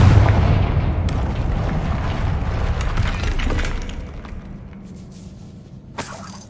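In a Harry Potter video game, the Confringo blasting spell sets off a loud, heavy explosion that crashes in with shattering debris, then rumbles and fades over several seconds before a final sharp crack.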